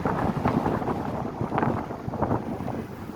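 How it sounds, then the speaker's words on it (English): Wind buffets the microphone while bicycling along the beach at Fort Myers Beach, Florida, a steady loud rumbling roar with gusty swells throughout and no talking. "So the wind is blowing, obviously from the direction that I'm heading into."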